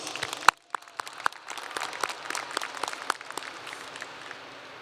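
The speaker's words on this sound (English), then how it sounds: "Let's give a round of applause for those receiving scholarships." Graduation audience applauding scholarship recipients at a high school ceremony, a steady patter of many hands filling a large hall with sharp individual claps standing out, moderately loud and continuous throughout.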